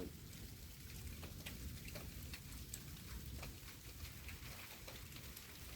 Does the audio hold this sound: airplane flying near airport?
no